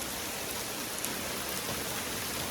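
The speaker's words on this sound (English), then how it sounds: "It's basically hailing, almost snow, pretty much hail." Hail and icy near-snow fall steadily at a desert off-road racing workshop, making a constant faint hiss and patter, with no talk.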